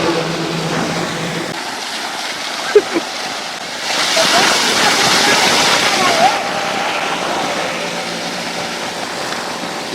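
Water rushes steadily under people talking outdoors in Jaffna, the gushing swelling louder for a few seconds before settling back.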